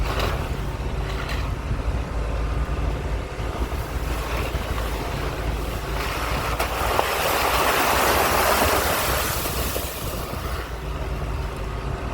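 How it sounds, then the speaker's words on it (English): An overlanding vehicle sloshes through muddy puddles on a Pennsylvania trail, a steady broadband wash of churning water and mud over a low engine drone, swelling louder toward the middle and staying continuous throughout. "Driving through the mud."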